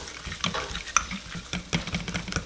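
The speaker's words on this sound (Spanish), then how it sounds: "Vamos a revolver todo muy, pero muy bien." Beef and broccoli with sauce being stirred in a pan, wet squelching scrapes and soft sizzle in an irregular rhythm, close and steady, without talking.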